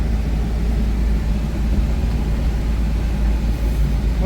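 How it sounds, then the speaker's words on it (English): A car drives over a rough desert road with a continuous, loud low rumble of engine and tires and a steady road roar, with no breaks and no voices. "Hard driving one-handed, even with power steering, when you're out here in the desert."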